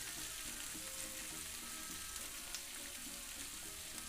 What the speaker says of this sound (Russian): Пока обжаривается лук,